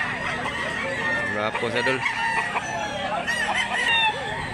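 A one-year-old green-legged Blue Miner bloodline rooster crows in the background in Mantalungon, Cebu, its call running under steady conversation between men.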